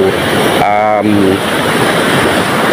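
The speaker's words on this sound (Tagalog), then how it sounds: "wala nang bagyo pero ganito pa rin kalakas yung alon" Loud, continuous sea waves roar against a seawall under strong wind buffeting at Centro Sur, Culasi, Antique, with a brief tonal voice-like sound partway through.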